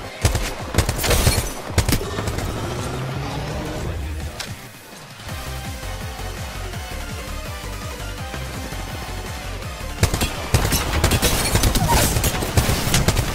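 Dense, continuous gunfire from a video game match of Apex Legends, sniper rifle shots among the bursts, loud and sustained across the whole stretch with brief lulls.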